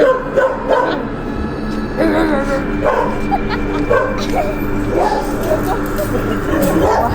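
Repeated barking and yipping from dogs over steady loud noise, with whiny, whimpering calls scattered throughout.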